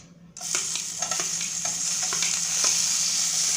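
Chopped tomato hitting hot oil in a wok with bay leaf, cardamom and cloves, a sudden burst of sizzling that stays loud and steady, with repeated stirring scrapes throughout.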